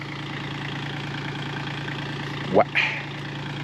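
A tractor engine idles with a steady low rumble throughout, joined near the end by a brief rising whine and a short spoken word.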